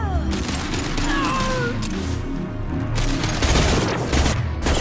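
Gunfire and booming blasts fill a Mass Effect 2 firefight, with repeated bursts of shots, impacts and mechanical clatter sounding loud and close over a dense rumbling background.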